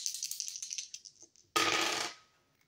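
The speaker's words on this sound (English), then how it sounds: "rolling the dice to see what I need to shuffle the deck to" Dice rattle and tumble across a hard surface in quick clicks that slow down, then a short sharp burst of noise.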